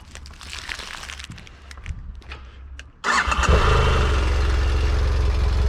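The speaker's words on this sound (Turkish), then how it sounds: "Şimdi motoru çalıştıralım." A BMW F 800 GS motorcycle engine cranks and catches a few seconds in, then settles into a loud, steady idle. It is close by, with some quiet handling noise before it starts.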